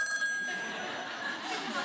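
A telephone rings in a short, faint, steady electronic trill, with light chuckling close by.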